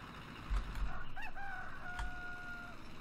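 A rooster crows amid clucking chickens in the video game Farming Simulator 15, with a couple of soft thumps and a faint mechanical hum in the background, no voices.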